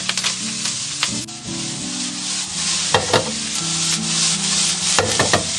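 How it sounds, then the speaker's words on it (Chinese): Leafy greens and scallion whites sizzle loudly in hot lard in a wok while a spatula scrapes and stirs them in a steady, close rhythm with sharp clatters. "我们加入青菜，给它炒香"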